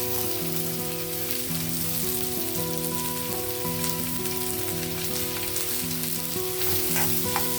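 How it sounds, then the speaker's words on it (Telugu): Onions dropped straight into heated oil sizzle for a cashew tomato curry, a loud, continuous crackling fry that holds steady throughout with no talking. "ఆయిల్ హీట్ అయ్యింది, నేను డైరెక్ట్ ఆనియన్ వేసేస్తున్నాను"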